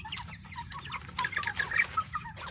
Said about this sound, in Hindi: ये है जी मेरे एस्ट्रोलॉब चिक्स, एक माह से ज़्यादा के हैं